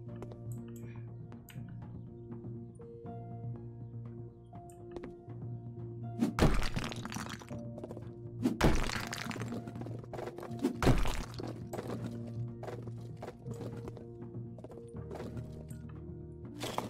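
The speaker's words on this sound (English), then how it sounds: "So I destroy the walls over here." Walls being smashed in House Flipper 2: several sharp, loud crashing impacts come in bursts over a quiet hum, with smaller knocks scattered between them.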